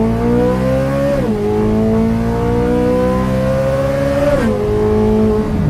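A Corvette C8 Stingray engine on a race track pulls loudly through the gears, the note climbing steadily in each gear before two sharp drops at the upshifts, heard up close with no talking.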